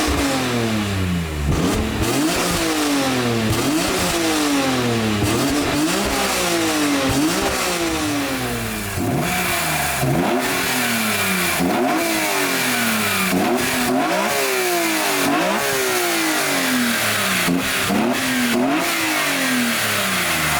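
BMW M3 engine revving hard in repeated blips, each rise and fall of revs clearly audible, loud and close with no talk over it.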